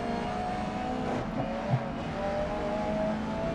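Race car engines in the racing game GRID Legends, a steady, continuous engine drone with a faint tire squeal partway through, holding at an even level with no talking.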